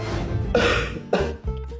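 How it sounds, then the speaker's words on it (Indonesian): A person coughs twice in quick succession up close, two short harsh bursts with a throaty catch in between and no talking. "Ada yang batuk nih."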